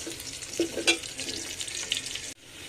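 Chopped onion frying in hot oil makes a moderate, steady sizzle with a few louder spatters and stirring clinks, and the sound drops suddenly near the end.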